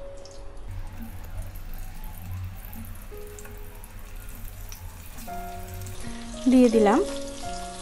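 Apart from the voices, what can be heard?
steamed potatoes frying in hot oil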